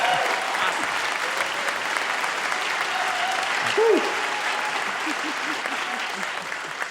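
An audience applauds with steady, even clapping, loud and sustained across the whole stretch. A voice briefly rises over it midway.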